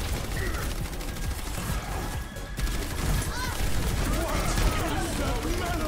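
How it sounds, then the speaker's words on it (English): Gunfire from players in the Overwatch video game, a dense continuous stream of rapid shots with mechanical weapon sounds throughout, heard with game effects in a busy team fight. "shooting at the Rein"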